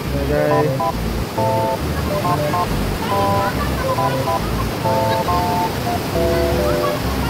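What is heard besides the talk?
strong river current flowing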